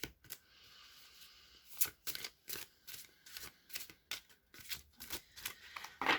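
Tarot cards are shuffled by hand in a quiet room, giving a run of close, crisp riffling flutters and taps in quick uneven bursts.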